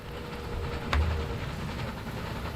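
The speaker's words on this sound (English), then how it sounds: "Got the other freight train here." A freight train carrying cattle rumbles along in the railway video game Railway Empire, a steady low rolling drone with a brief hissing swell partway through.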